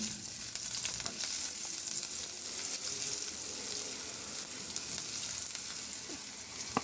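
Garlic sautéing in a pan for a pork rib soup, a loud, dense, continuous sizzle with faint crackles running unbroken throughout.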